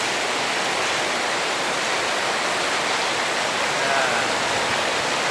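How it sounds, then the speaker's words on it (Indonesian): Very heavy tropical rain pours down steadily, a dense, loud, even roar of water with runoff streaming into a drain gutter, continuous and unbroken with no voices. "melihat hujannya sangat deras sekali"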